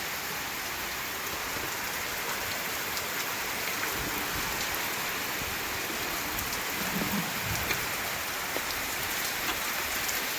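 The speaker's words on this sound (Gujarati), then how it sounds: "વરસાદ તમે જોઈ શકો છો ધોધ માર આવી ગયો છે" Heavy rain pours down in a dense, unbroken roar, spattering on nearby surfaces throughout with no break or change.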